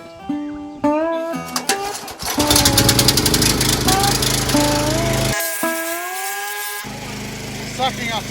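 Engine of a wet abrasive blasting machine for Land Rover panels starts and runs loud and rough, with a steady rattling drone and harmonic whine, briefly dropping out before resuming.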